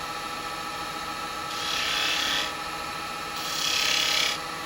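A turning tool scrapes a fine line into a cherry wood bowl spinning on a lathe, two short rasping passes about two seconds each over a steady motor hum.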